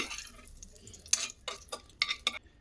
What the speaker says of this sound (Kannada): ತುಪ್ಪ ಕಾದಿದೆ, ಇದಕ್ಕೆ ಕಟ್ ಮಾಡಿ ಇಟ್ಕೊಂಡಿರೋ ಡ್ರೈ ಫ್ರೂಟ್ಸ್ನ ಹಾಕ್ಕೊಂಡ್ಬಿಡ್ತೀನಿ.